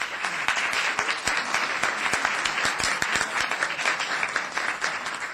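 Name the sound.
audience clapping at town council meeting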